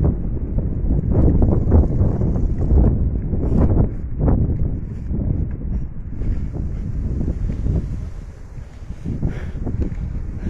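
Strong, suddenly risen gusts of wind from a whirlwind in the Brindisi industrial zone buffet the microphone in heavy, rumbling surges that rise and ease throughout, with no voices.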